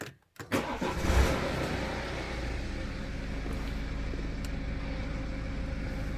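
A BMW 320d diesel engine cranks over briefly and catches, then settles into a steady, fairly quiet idle close by.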